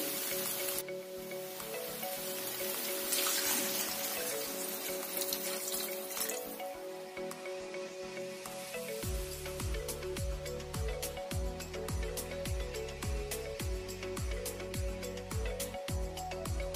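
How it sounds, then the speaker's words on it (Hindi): Water splashes and trickles into a pan of drumstick curry, a steady pouring wash that shifts into intermittent stirring knocks and scrapes toward the end. "अब इसमें पानी डालेंगे अपना जरूरत के हिसाब से"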